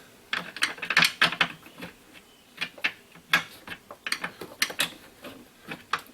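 Ratchet clicking in irregular bursts while loosening a bolt on a Saturn SC2 master cylinder, close and fairly quiet, with short pauses between the clicks.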